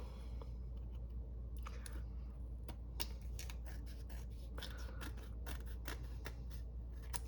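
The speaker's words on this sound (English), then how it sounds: "I'm just gonna trim that off." Scissors trim off excess material, close-up, with a run of small crisp snips and clicks scattered unevenly over a low steady hum, no talking.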